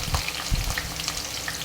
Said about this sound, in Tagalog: Ayan, nag-fried na ako ng onions.